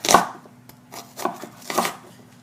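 A knife slices through steak for fajitas on a cutting board, giving three or four distinct close chopping strokes with short pauses between them.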